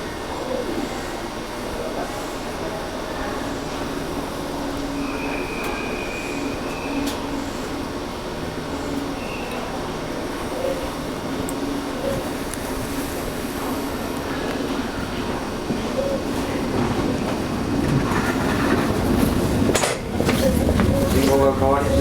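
A Toei 5300 series train runs a local service toward Kanazawa-bunko between Matsuhidai and Kuramae, a steady on-board rumble that grows louder and rougher near the end, with voices faintly present.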